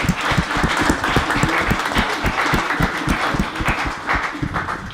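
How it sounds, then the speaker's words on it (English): Applause from an audience at a music and technology panel event, a dense, steady burst of many hands clapping at close range that holds for the full stretch with no speech over it. "So let's give yourselves a round of applause."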